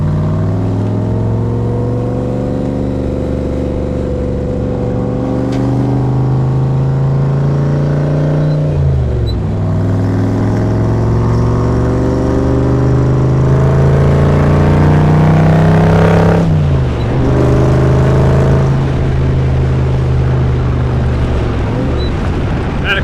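A loud 1965 Backdraft Cobra replica sports car engine drones continuously in the foreground, its pitch rising through gears and dropping at each shift, twice over.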